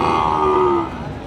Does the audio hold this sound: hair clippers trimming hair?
no